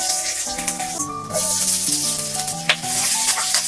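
Tofu fries with garlic in a hot pan, browning to golden, a busy close sizzle and crackle with scraping and rattling of a utensil stirring through it.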